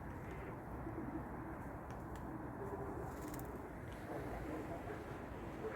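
Tumbler pigeons coo softly in the distance, a low, faint murmur set against a constant background hum.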